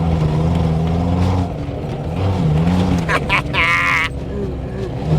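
An ARO 4x4 engine revs and strains through muddy off-road ground, a loud, wavering drone that rises in pitch, with people talking over it.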